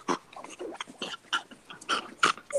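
A dog snorts, sniffs and breathes in short, irregular bursts close by, with no talking.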